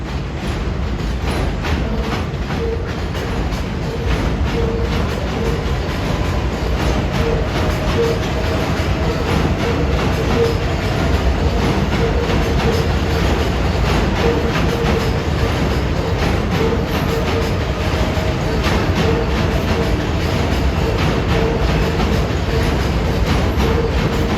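A New York City #7 Line subway train rolls in with a sustained rumble and rhythmic clatter of wheels on track, loud and continuous for the whole stretch, with no talking.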